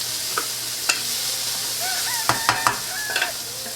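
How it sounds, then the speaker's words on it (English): Onion, garlic, red pepper and ginger sizzle in hot oil in a pan, a steady crackling hiss broken by a few sharp clinks and scrapes of stirring. "so let's cook the onion, garlic, red pepper first,"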